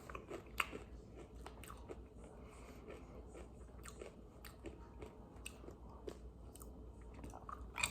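Someone eating Buc-ee's snacks such as beef jerky and nutty nuggets: close, crunchy bites and steady chewing with irregular sharp crackles, no talking.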